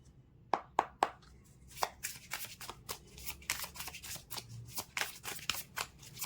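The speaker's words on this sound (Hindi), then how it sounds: "Stay positive till I shuffle the cards." Tarot cards are shuffled in quick, crisp riffles and taps, a steady run of close, soft snapping bursts with no talking.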